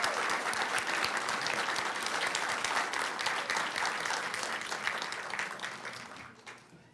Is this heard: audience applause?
yes